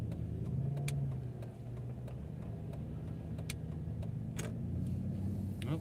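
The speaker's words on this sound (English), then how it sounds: "Oh, got cars making U-turns here." Cars drive past and swing through U-turns on a road, a steady close engine hum with tyre noise and a few brief clicks, heard from inside a moving vehicle.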